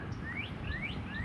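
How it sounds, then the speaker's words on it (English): Several birds chirp in a residential neighborhood in spring, bright rising call notes repeating every half second or so over a steady low outdoor rumble, moderately distant. "lots of birds chirping, and I can hear a bird here, just cannot see it."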